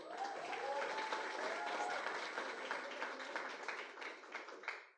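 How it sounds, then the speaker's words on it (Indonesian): A group at a university orientation event claps steadily for several seconds, a fairly close, dense patter of many hands with a faint voice underneath that fades out near the end. "Kenapa semua tepuk tangan?"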